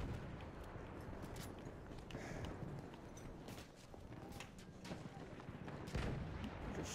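Gunfire in Battlefield 1 online, scattered shots and distant artillery-like booms over a dense battlefield din, irregular and mid-distance, with a faint voice.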